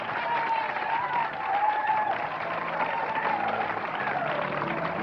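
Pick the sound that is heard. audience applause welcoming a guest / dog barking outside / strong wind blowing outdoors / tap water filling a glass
audience applause welcoming a guest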